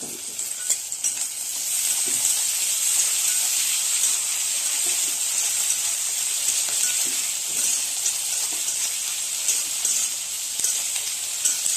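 Chopped tomatoes sauté in oil in a pan for an egg curry, giving a steady loud sizzle and hiss with occasional soft stirring scrapes, sustained without speech.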